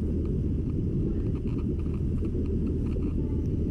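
A Yamaha Gear 125 scooter engine labours at low RPM while climbing a steep hill, a steady, loud, low rumble mixed with wind buffeting, continuous and close with no talk.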